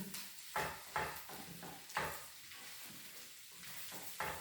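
Sliced onion hits frying pork sisig in a hot pan, a steady sizzle rising with several sharp spatters and stirring scrapes spaced through a few seconds, close and moderately loud.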